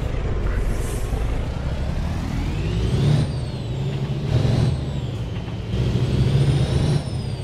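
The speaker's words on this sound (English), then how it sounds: "And we do have a modded engine in this truck. This is a Cummins N14, I do believe." Heavy truck engine with a modded Cummins N14 in American Truck Simulator, a steady low diesel drone rising and falling with throttle through the clip, with air brake hisses on top and no talk.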